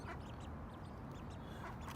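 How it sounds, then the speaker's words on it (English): Little ducklings at a beach give faint, scattered high peeping quacks over a steady background wash of wind and surf. "look at the little ducks."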